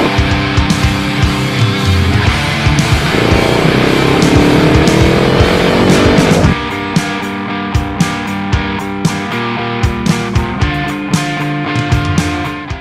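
A custom tracker motorcycle built on a KTM Duke 250 roars loudly on a test ride, its engine note sweeping up through the revs, then settling into a rhythmic, pulsing drone with sharp periodic pops, close and alone.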